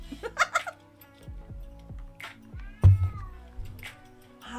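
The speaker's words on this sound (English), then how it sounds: "Who is my loud, loud, loud, loud, loud kitten?" A kitten meows loudly several times in a row, close to the microphone, with short bursts of laughter and bits of talk in between.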